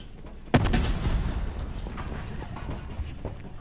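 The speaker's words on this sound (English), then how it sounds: "Why'd you throw a grenade?" A grenade goes off in a video game, giving one sharp, close blast followed by a rumbling decay that fades slowly over a few seconds, with no talking.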